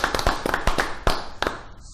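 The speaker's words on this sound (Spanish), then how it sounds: "Creo que los muchachos se merecen un fuerte aplauso" Sparse clapping from a small group honoring the winners at a Peña Criolla gathering, a handful of separate sharp claps spread irregularly over two seconds, moderately close and without speech.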